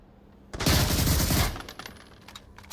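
A sustained burst of automatic rifle fire in the VR shooter Onward during a competitive match, loud and close for about a second before fading into scattered, fainter shots.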